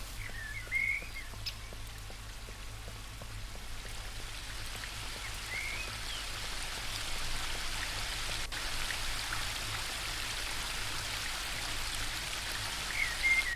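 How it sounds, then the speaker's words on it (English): A small spring brook in the game The Book of Unwritten Tales 2 flows with a steady, soft rush of water, constant and moderately close, with faint birdlike chirps now and then. "The spring brook emerges up there."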